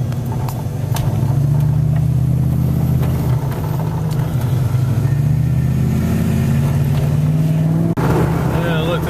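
Loud, steady engine and road noise from inside a car driving on a road in the evening, with people talking over it.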